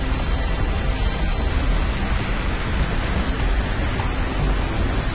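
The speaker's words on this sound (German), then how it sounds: "Es regnet und stürmt. Was für ein Wetter." Rain and a storm in the video game Call of Duty: Modern Warfare 3 make a loud, dense, unbroken hiss of downpour with a low rumble underneath, steady throughout.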